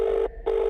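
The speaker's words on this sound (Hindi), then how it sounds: "लंबी रिंग बजने लगी।" A telephone rings on the line with a long, steady electronic ringback tone that breaks off briefly and then resumes, close and alone.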